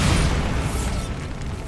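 Bombarda blasting spell going off in Hogwarts Legacy gameplay: a dense, loud explosive roar with heavy low rumble that fades slightly over its short length, with no talking.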